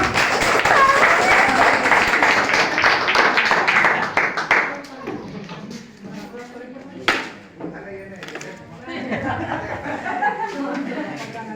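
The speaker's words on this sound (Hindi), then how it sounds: "एक बार जोरदार ताली हो जाए सर के लिए" A crowd at a product demo session gives a presenter a burst of loud, dense applause lasting a few seconds. It then fades into scattered chuckles and voices talking.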